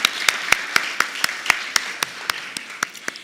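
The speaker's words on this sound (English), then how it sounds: "I think that deserves a round of applause too." An audience at an alumni awards ceremony gives a round of applause, a thin sparse clapping of a small crowd with sharp, evenly spaced claps, close and steady throughout.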